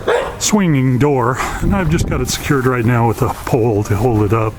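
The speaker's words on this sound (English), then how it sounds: "sorry about the neighbor dog" A neighbor's dog barks a few times in a backyard on a cold night, the short barks partly buried under someone talking steadily nearby.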